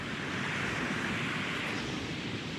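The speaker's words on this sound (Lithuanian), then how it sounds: "yra jūra, tai girdi košimą, bangas" Continuous rushing wash of sea waves near Dunkirk, a steady broad hiss with no clear breaks, heard alone.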